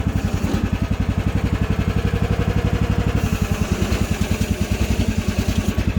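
A Hightop HT10 one-ton mini excavator runs its small engine while being operated. The engine makes a close, steady, rapid chugging throb that holds an even rhythm throughout.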